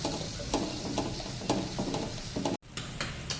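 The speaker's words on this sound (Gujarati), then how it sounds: "પેસ્ટ બનાવી હતી ને ડુંગળી ટામેટું અને લીલું મરચું એ બધું મિક્સ કરી અને બરાબર ચડવા દેવાનું" Onion, tomato and green chili paste sizzles steadily in hot oil for a restaurant-style bottle gourd kofta curry, with repeated stirring strokes scraping through the frying and a brief gap near the end.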